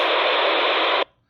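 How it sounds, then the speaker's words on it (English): A harsh burst of scrambled, hissing 1990s analog police radio encryption noise lasting about a second, then cutting off abruptly to near silence. "The encryption in the 90s that we hear, it sounds like this."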